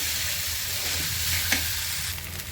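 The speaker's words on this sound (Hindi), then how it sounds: "ये डब्बे की शेप में बने हुए चावल हमने इसके अंदर डाल दिए हैं और इनको अच्छे से मिक्स कर देंगे हम" Leftover rice stir-fried into fried rice makes a steady close sizzle with soft scraping as it is tossed in the pan, continuous and even, no voices.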